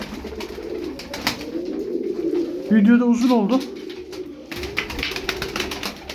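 Tumbler pigeons coo in a short burst of low, rolling calls near the middle, with other birds faintly around and someone talking before and after.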